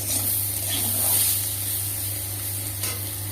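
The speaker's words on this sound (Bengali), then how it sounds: "আমাদের সমস্ত সবজি হয়ে গেছে ভাজা" Mixed vegetables sizzle in a small amount of oil in a pan for noodles, giving a steady close hiss and crackle throughout with occasional stirring scrapes, and no voices.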